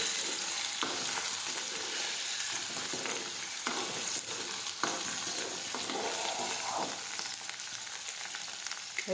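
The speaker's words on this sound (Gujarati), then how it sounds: "આદું નાખીશું. હવે સાતળી લઈશું." Ginger sizzles in a pan as it is sautéed, a soft steady frying hiss broken by occasional scrapes and taps of a stirring spoon, with no voices.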